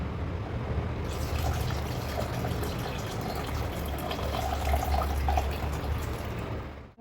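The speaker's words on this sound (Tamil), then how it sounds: "இப்போ நம்ம ஊற வச்சு வச்சுருக்க புளி கரைசலை அதில் சேர்த்துடலாம்." Soaked tamarind water poured into a pot of sambar with cooked vegetables, a steady liquid stream running for about six seconds close by, then stopping.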